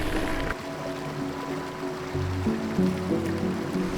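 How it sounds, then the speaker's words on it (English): Rushing water from a large waterfall at a river crossing on a mountain bike trail, a steady broadband roar with tonal rumbling underneath, close and continuous throughout. "look at this damn river crossing thing. This is crazy. That's like a huge waterfall."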